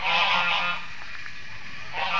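A few goose honks ring out, brassy and repeated, against a steady outdoor background at a muddy wildlife rehabilitation center, loudest at the start and again near the end.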